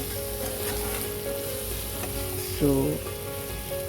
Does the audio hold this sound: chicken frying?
yes